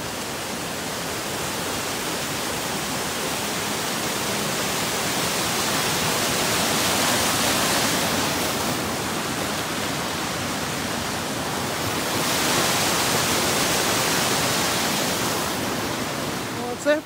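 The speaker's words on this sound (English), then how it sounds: "That was a bigger waterfall than I thought it was." A large waterfall, Cummers Creek Falls, on the Appalachian Trail, roars as a steady, loud broadband rush of falling water that swells slightly and continues unbroken, heard alone without talk.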